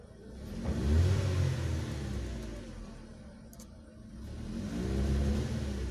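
A Chevrolet Nexia 3 engine with Euro-4 tuning revved during a diagnostic check, swelling twice from idle into a rising mid-pitched roar and then settling back, close and fairly loud.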